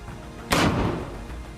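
A rocket fired from a launcher bursts in with one sudden loud blast, then a long roaring rumble that fades slowly, with no talk.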